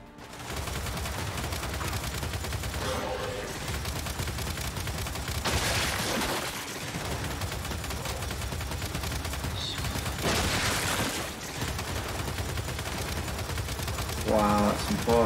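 Bursts of gunfire in the shooter Glitch of War 5 on insane difficulty, rattling volleys over constant game noise, with a few louder clusters of shots; a voice can be heard under the action.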